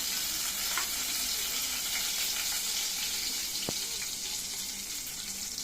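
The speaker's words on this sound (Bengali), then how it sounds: "শুকনো লঙ্কা ফোড়ন দিলাম" Dried red chilies tempering in hot oil for ghugni, a steady close sizzle with a faint pop or clink partway through.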